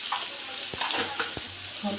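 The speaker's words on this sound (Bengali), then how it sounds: "আলুগুলো ভালো করে ভেজে নেব।" Potatoes frying in hot oil left from frying fish heads, seasoned with salt and turmeric: a steady close sizzle with a few quick knocks and scrapes of stirring, no talking.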